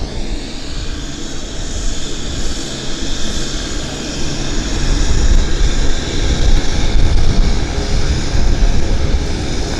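An Air Canada Dreamliner in a special livery taxis out at Vancouver airport, a loud, steady jet engine roar with broadband rumble that swells gradually, heard from nearby without talk.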